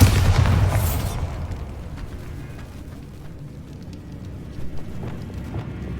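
The Bombarda explosion spell from the video game Hogwarts Legacy goes off as one loud, deep boom at the start, then rumbles and fades into a low roar with faint scattered crackles.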